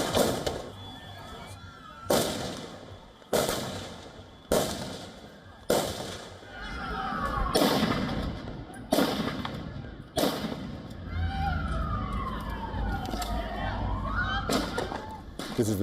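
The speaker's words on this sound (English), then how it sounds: "The dramatic footage shows two gunmen firing indiscriminately during a Jewish holiday celebration at Bondi Beach." Gunfire from two gunmen shooting during a Jewish holiday celebration at Bondi Beach, Sydney: a series of loud, sharp cracks spaced a second or so apart over a continuous roar of crowd and outdoor noise.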